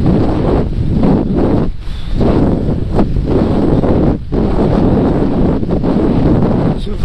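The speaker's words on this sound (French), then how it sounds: "Ce vent, mesdames et messieurs, est catastrophique." Strong, continuous wind roars and buffets a GoPro microphone while kitesurfing on choppy water, loud and close with brief dips in the gusting.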